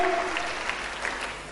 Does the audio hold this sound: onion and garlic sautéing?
no